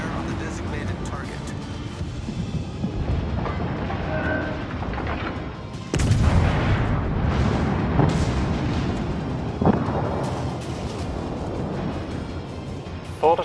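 Naval gunfire from warships in World of Warships, heavy booming salvos and rumbling explosions over constant engine and sea noise, with someone talking throughout.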